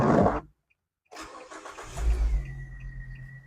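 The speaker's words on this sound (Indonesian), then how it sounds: "Sekarang kita coba nyalakan untuk Grand Livina-nya." A 2014 Nissan Grand Livina SV car engine starting: a brief loud sound, a moment of silence, then the starter cranks, the engine catches with a low roar and settles into a steady idle with a faint whine.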